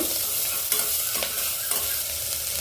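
Chillies and onion frying in a pan, a close, even sizzle with soft stirring scrapes throughout, no voices.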